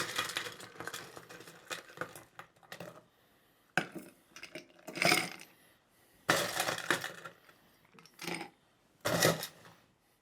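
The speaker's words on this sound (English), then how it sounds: "We're going to fill it up with ice." Ice cubes tumble into a double old-fashioned glass in several separate scoops, each a rattling clatter of clinks and knocks, close and fairly loud, with short quiet pauses between pours.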